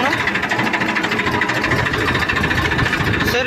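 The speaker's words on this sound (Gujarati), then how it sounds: "ચાલુ કરો ટ્રેક્ટર ચાલુ થઈ ગયું" A tractor engine runs at idle, a fast, even chugging throb that stays loud and continuous throughout, with some voices mixed in.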